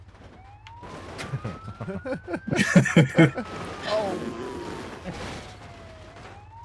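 A wavering electronic siren from a racing truck in the BeamMP driving game sweeps up and down beneath excited shouting and a burst of loud crashing, the wail continuing steadily throughout.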